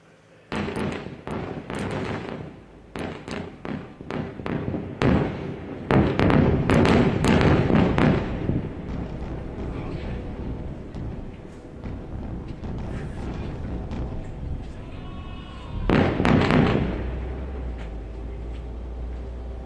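Repeated heavy booms and rumbling blasts of airstrike explosions at night in Gaza, some in quick clusters, echoing from a distance, with a lingering low rumble between them and a final burst.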